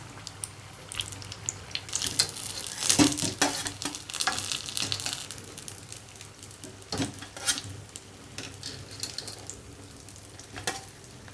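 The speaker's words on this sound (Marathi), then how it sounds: "आता चांगले वांगे वडे चांगले फ्राय झालेले आता ते काढून घेऊ" Brinjal vadas fry in a pan of hot oil, giving a steady close sizzle and crackle with a few louder spattering bursts. No voices are heard.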